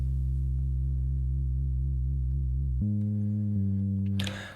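A deep synth bass track from an Elektron Digitone in a techno jam setup, a sustained low note with slow wobbling movement that steps to a new pitch partway through, loud and alone, ending in a brief noisy burst.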